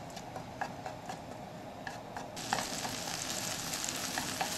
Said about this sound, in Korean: 김치도 달달 볶아줍니다